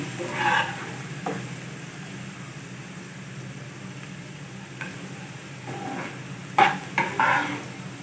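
Carrots roast gently in oil for Kabuli pulao, a soft steady sizzle running throughout, broken by several brief clinks and scrapes of a utensil against the pan.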